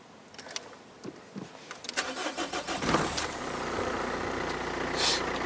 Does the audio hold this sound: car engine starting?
yes